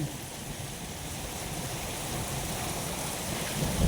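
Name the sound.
heavy rain after hail in Riyadh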